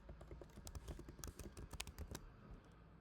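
Fingers tap quickly on a computer keyboard while entering names and an email address, a close, busy run of light clicks and clacks in uneven bursts with no speech.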